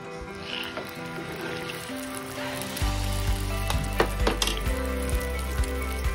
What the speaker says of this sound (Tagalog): Tsaka lamang po natin siya iprito na ang ating tortang talong.